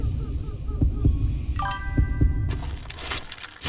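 In the Call of Juarez Gunslinger video game a low heartbeat thuds in a slow, steady rhythm under game noise, with a bright metallic jangle and clatter near the middle and end.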